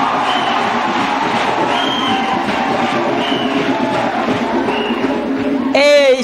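Church congregation cheering and acclaiming Jesus Christ, a loud sustained crowd roar with scattered shouts, ending in a brief harsher burst.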